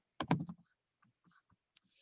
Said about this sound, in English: So I started typing American Red.